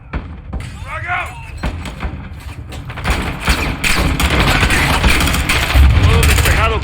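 Combat in Call of Duty: Modern Warfare 2 on Realism difficulty, with a frag grenade explosion amid dense automatic gunfire and thuds, steady and loud throughout, with voices shouting under the din.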